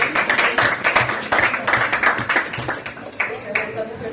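Dense, steady clapping from a crowd of primary school pupils in Samoa, a few sharper claps standing out, with children's voices and chatter mixed in throughout.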